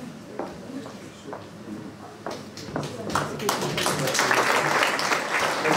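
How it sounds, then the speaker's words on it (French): Scattered claps from a gathering at a sports medal ceremony grow into fuller, louder applause, with voices and murmuring mixed in around them. "On peut l'applaudir"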